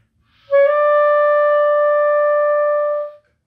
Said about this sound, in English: the non-vibrato note will be held straight through without much movement